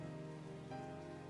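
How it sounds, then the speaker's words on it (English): Rain effect from a video game's PC port, a soft steady patter of rainfall with a faint tonal background, low in level and without talk. "They really messed up the rain effect on the PC port."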